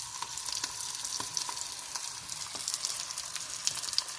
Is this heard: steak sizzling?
yes